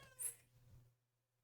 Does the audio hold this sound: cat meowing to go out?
yes